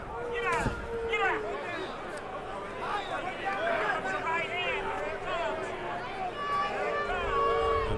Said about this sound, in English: And the crowd continues to be very upset